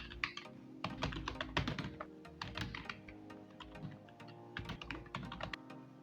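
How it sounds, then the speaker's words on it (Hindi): Fingers type on a computer keyboard while a school address is being entered into an Excel spreadsheet, producing quick, close, irregular clicks and clacks in short runs with brief pauses. "उसके बाद इस स्कूल का जो एड्रेस है वो टाइप करूँगा"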